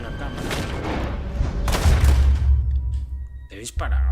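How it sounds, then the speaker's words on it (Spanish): Gunfire in the Red Dead Redemption II video game, a few loud bursts and booms with heavy low-end thump, mixed in with game sound and under someone talking. "Te he disparado, macho."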